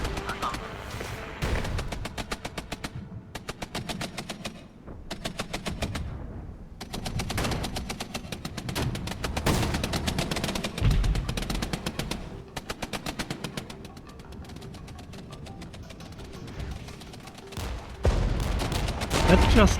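Sustained machine-gun and rifle fire from entrenched mechanized infantry in the Regiments video game battle, rapid rattling bursts in repeated volleys with short pauses, fairly loud and continuous, with someone talking intermittently over it.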